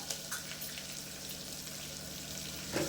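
Mustard seeds splutter and pop in hot oil for a rasam tempering, a dense, steady crackle close by with no talking.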